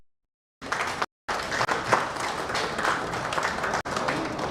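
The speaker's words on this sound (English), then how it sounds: "give a good round of applause" An audience at a corporate cricket league player auction in Kolkata applauds steadily after a brief silence, a dense wash of many hands clapping with one short break.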